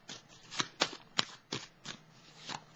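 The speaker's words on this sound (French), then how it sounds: "Je vais piger une carte ici" A deck of tarot cards is shuffled and a card drawn, giving a run of about seven crisp riffling snaps spaced roughly half a second apart, close and fairly quiet, with no talk.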